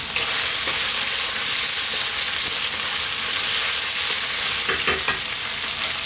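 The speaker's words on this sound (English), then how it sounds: "Going to drop in our fresh chilli" A whole fresh chilli hits hot oil in a curry pan and sets off a loud, steady sizzle that carries through the whole stretch, with a few faint stirring knocks and no talking.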